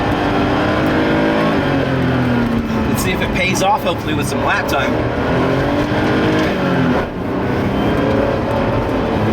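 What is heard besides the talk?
Porsche 930 Turbo engine revving through gears on track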